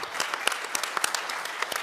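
Scattered clapping from members of parliament greeting police officers, a thin, irregular patter of individual claps heard at a moderate distance.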